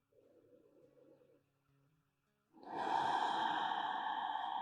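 Slow, deep breaths during a hips and lower back yoga pose: a soft, airy inhale followed by a pause, then a long, fuller exhale close to the microphone.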